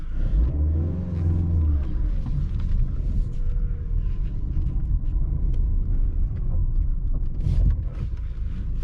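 A Mercedes-Benz C180 W203 with a 129 hp engine and six-speed manual gearbox pulls away in city traffic, its engine rumbling steadily and rising under acceleration, with continuous low road and cabin noise throughout.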